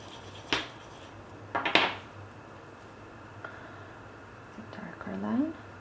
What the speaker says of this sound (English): Let me mix some more ink.